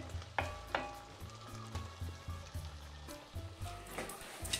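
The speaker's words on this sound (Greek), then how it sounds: "Τα λαχανικά μας εδώ που είναι στη κατσαρόλα πρέπει να μαγειρευτούν χωρίς να αλλάξουν το χρώμα" Vegetables cook in a pot with a steady sizzle and bubbling, punctuated by several sharp clinks and stirring knocks at close range, with no voices.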